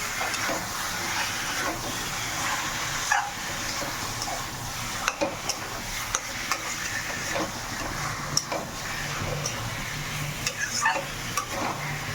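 Chicken pieces sizzling and frying in a pan of cooked spice masala, a steady hiss with occasional stirring clinks and scrapes, close and continuous with no talking.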